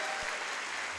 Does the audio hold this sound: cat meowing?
no